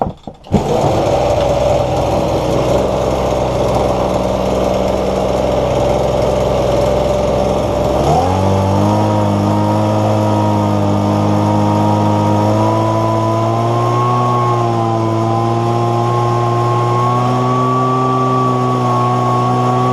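A Ryobi leaf blower's small two-stroke engine, adjusted after bogging down, starts with a brief catch, runs at a steady drone, then climbs to a higher, sustained buzzing rev that holds loud and constant.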